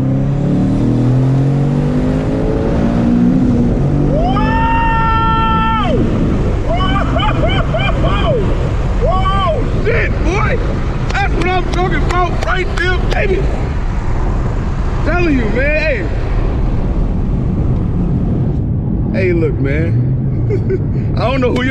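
A twin-turbo Ford Boss 302 running on E85 roars loudly up close, revving hard and pulling through rising gear sweeps with brief shift breaks and turbo whoosh, while voices and cheering ride over the engine.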